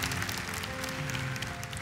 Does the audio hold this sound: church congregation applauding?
yes